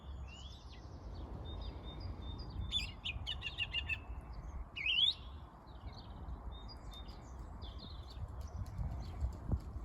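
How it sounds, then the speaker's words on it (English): A song thrush sings on a countryside circular walk near Handforth Dean in Wilmslow, its bright, repeated phrases rising in the middle of the stretch above a steady low outdoor rumble. "That's a song thrush."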